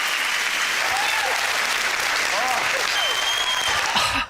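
A studio audience cheers and applauds in a dense, continuous roar of clapping with scattered whoops, steady and loud throughout before cutting off sharply at the end.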